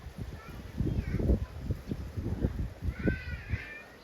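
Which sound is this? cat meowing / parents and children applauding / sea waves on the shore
cat meowing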